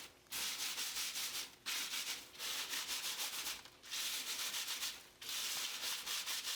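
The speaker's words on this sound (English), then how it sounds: "At this point, we are sifting all of the sand through the gravel." Sand is sifted through gravel in a steady, gritty rushing rasp that comes in four long passes with brief gaps between them, close and moderately quiet, with no voices.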